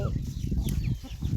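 Little ducks let out to feed on a farm in the evening, giving soft, busy poultry chatter and clucking calls close by over a low, continuous background.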